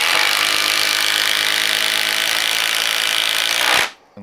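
A Hikoki 36V impact driver drives a 5-inch Spax screw into wood, a loud, continuous, buzzing hammering whir lasting nearly four seconds before cutting off abruptly into quiet.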